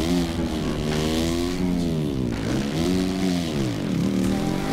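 Motocross motorcycle engine in MX vs ATV Legends, a 250-class bike droning steadily with rising and falling revs across several throttle swells, loud and continuous with no talk over it.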